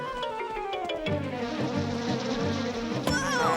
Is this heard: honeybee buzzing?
yes